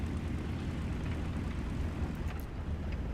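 A B-25J Mitchell bomber's engine in War Thunder rumbles steadily after landing, a dense low roar with broadband hiss that stays constant and fairly close throughout.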